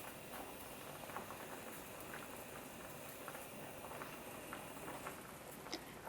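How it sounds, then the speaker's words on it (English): Black beans simmer at a rolling boil in a pot, a faint, steady bubbling patter with small irregular pops throughout. "Bring everything to a rolling boil and then turn the heat down to a simmer."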